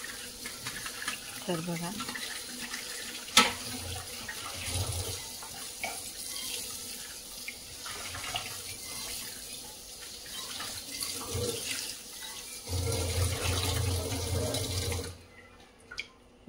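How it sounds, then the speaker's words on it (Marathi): Dishes are washed under a running kitchen tap, the water splashing steadily with brief pauses and clinks while someone talks over it. "अशा प्रकारे भांडे मी तुम्हाला हे धुवून दाखवते"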